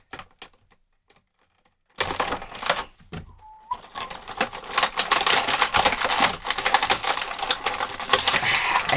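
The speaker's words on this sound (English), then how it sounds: "I hope you like the sound of opening plastic." Crinkly, crackling rustles of plastic toy packaging for a Todd McFarlane figure being torn and pried open up close, starting after a near-silent moment and continuing in dense, loud bursts.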